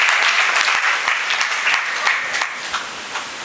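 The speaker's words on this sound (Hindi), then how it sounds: "शाबाश, ताली बजाइए, अब तो बजा दीजिए।" Audience applause at a gurukul discourse, a burst of brisk, crowded clapping that starts full and loud, then loosens into scattered claps as it dies away.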